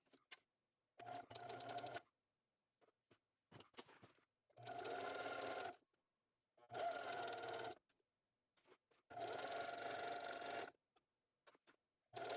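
A domestic sewing machine stitches a tote bag in several separate runs of rapid, steady needle chatter, each a second or two long and divided by quiet pauses, heard fairly faintly with no talking.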